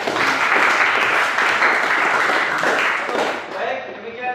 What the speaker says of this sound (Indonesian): Beri aplaus dulu untuk semua teman-teman tadi.